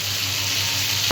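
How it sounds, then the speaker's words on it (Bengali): Pointed gourd frying in hot oil in a wok for a prawn and potato curry gives a steady, close, broad sizzle that runs the whole short moment, with a faint clink right at the end. "ওতে একটু কড়াই একটু তেল দিচ্ছি, আমি পটলগুলো ভেজে নেব।"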